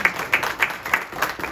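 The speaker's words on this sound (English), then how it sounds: "I think we owe him a round of applause" A small round of applause at a city council meeting, scattered hand claps in an uneven rhythm, short and moderately close.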